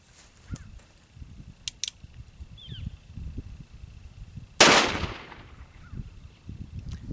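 A single sharp gunshot from a Cimarron Richards Conversion Type 2 revolver in .44 Special, a loud crack with a brief decaying tail, set among quiet outdoor background noise.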